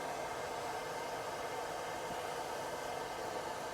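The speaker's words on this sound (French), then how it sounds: "Donc, le petit sèche-cheveux, il fait l'affaire." A small hair dryer blowing air into a forge fire: a steady, close, broadband whooshing roar that stays constant with no pauses or speech.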